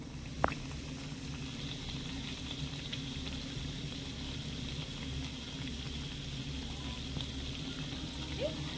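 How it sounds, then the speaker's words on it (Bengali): Gaja sweets frying in oil over a very low gas flame give a steady, soft bubbling sizzle with a faint occasional clink, continuous and even throughout with no talking. "দেখুন সবগুলো গজায় আমি তেলের মধ্যে ছেড়ে দিয়েছি এবারে গ্যাসের আঁচটা একদম হালকা রেখে গজাগুলো পুরো উপরে উঠে ভেসে যাওয়া পর্যন্ত অপেক্ষা করব"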